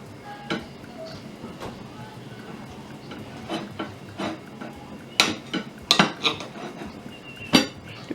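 A knife cuts plantain cake on a plate, giving sharp clinks and taps of metal against china, scattered at first and then clustered into several louder strikes near the end.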